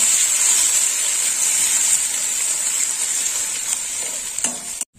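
Ground onion paste frying in a pan with a loud, continuous close sizzle, faint stirring scrapes near the end before it cuts off abruptly; no one speaks.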